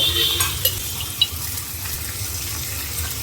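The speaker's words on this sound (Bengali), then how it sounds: "আর দিয়ে দিলাম গরম মশলার গুঁড়া কষানোর সাথে আর কয়েকটা রসুন দিয়ে দিলাম আস্তা মশলাটা একটু ভেজে নিচ্ছি" Garam masala, turmeric, chilli and coriander powders fry with garlic cloves in a pan, giving a close, steady sizzle broken by a couple of sharp stirring clinks.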